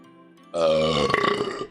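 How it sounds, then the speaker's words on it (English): A single loud, drawn-out burp from a streamer during a live just-chatting stream, close to the mic and heard alone without talk. "Excuse me for the burp."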